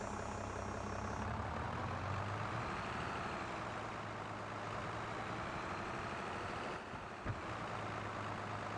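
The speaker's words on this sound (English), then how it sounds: "the sound of this tractor is really amazing" A heavy tractor engine in the farming game Farming Simulator drones and idles steadily at close range, a deep continuous rumble with a brief click near the end.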